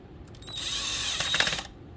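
A power screwdriver whirs briefly while taking a screw out of a Fuji Xerox multifunction copier during a drum replacement, one close, loud burst of about a second with a ratcheting finish.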